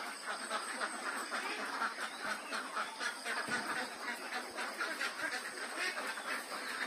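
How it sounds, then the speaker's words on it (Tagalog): A flock of newly moved ducks on a duck farm in the Philippines, with a dense, continuous chorus of overlapping quacks and chatter at moderate distance. "Ang ating mga itik."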